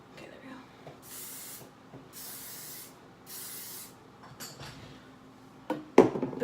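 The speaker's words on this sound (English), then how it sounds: "now I'm going to be taking this big sexy hairspray and spray it in her hair as well" Three short bursts of hairspray from an aerosol can onto a person's hair during a loose beach wave styling, each a soft hiss lasting about half a second, close and fairly quiet, followed by a brief louder clatter at the end.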